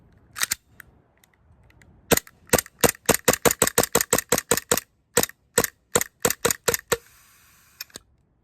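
AW Custom VX7 Z80 airsoft pistol firing a rapid string of sharp, close gas-powered shots, a pair first, then a quick even volley, ending with a brief hiss and sputter as the gas runs out.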